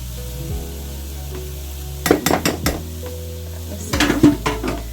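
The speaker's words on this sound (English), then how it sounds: "Okay, get it off my pastry blender." Streusel mixture scraped off a metal pastry blender into a mixing bowl, two clusters of short scraping and tapping strokes in close succession against a steady low kitchen hum.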